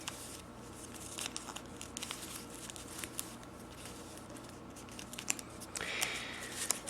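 Sheet of paper creased and folded while making an F-18 paper airplane, giving soft close crinkles and rustling taps scattered through, with a brighter crisp rustle near the end and no talk.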